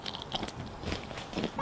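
Crunchy bites into pan-cooked bread laced with brown sugar and cinnamon, a few crisp crackling crunches scattered over a second and a half, close and fairly faint with no voices.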